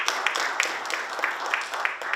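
A church congregation claps in time together, producing a steady run of crisp, roughly evenly spaced claps, fairly close and lively.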